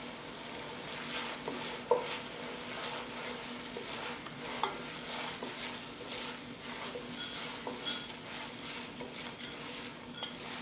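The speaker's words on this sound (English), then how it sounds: "I'm going to swirl that around, kind of deglaze the pan a little bit." A pan deglazed while cooking shrimp risotto, liquid sizzling and frying steadily as it is swirled around, with occasional clinks of a utensil against the pan, close and fairly quiet, with no talking.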